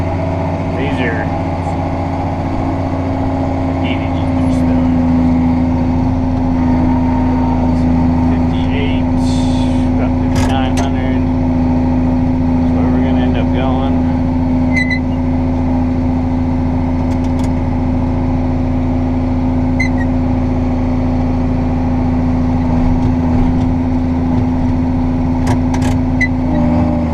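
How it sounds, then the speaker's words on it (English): A ranch feed truck fitted with a mixer box runs with a steady, loud engine drone and mechanical hum throughout, the tone holding constant with faint clanks over it. "I have a truck and a mixer box"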